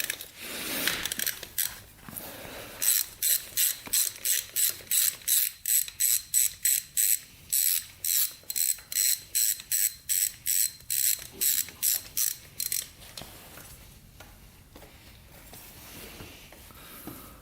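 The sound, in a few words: ratchet loosening oil drain bolt on Honda 400ex quad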